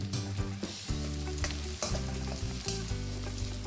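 Green chillies, onions and spring onion whites frying in a pan, a close, steady sizzle broken by repeated scraping and stirring strokes, with music playing underneath.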